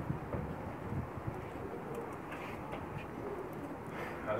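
Soft Pakistani pigeon cooing in the background, low and murmuring, mixed with steady wind noise across the microphone.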